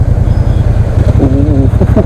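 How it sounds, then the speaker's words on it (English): A Triumph Speedmaster Bonneville motorcycle with its stock exhaust, riding: a loud, close, throbbing engine rumble with an even firing pulse, and a brief voice toward the end. "That's a stock exhaust, guys."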